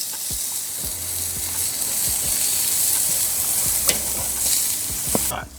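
Lamb sizzling on a grill over an open fire, a steady close hiss of frying meat with occasional faint pops and crackles and soft clinks throughout.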